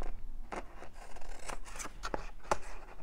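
Scissors snip through thick paper around a tab from an old Victorian album page, several separate close cuts spread across a few seconds with light rubbing and handling between them.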